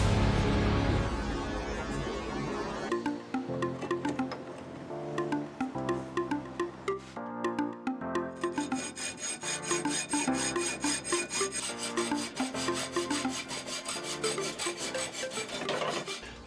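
Threaded rod being cut to length by hand, a steady back-and-forth rasping stroke repeated close up, with a short pause partway through before the cutting resumes.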